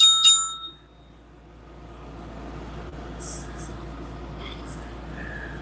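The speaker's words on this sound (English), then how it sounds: "I got my smiley face bell over here." A smiley face bicycle-style bell rung as a sound effect: a quick double ding right at the start, loud and bright, then a quiet room hum with faint clinks.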